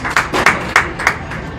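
An audience at a county fair swine show applauds a young exhibitor, with a handful of loud, close, separate claps over about a second and a half.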